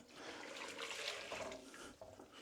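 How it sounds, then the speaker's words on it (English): Boiling water pours from a kettle into a pot of chopped vegetables, a brief soft splashing gush that swells and then tapers off, close but fairly quiet. "Next, we want 1 pint of boiling water."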